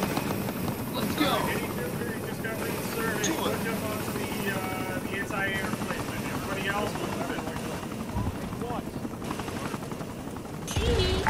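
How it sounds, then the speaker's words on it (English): Steady helicopter rotor drone in the video game Arma 3 running throughout, with excited voices talking over it and a sharp burst near the end. "Our helicopter."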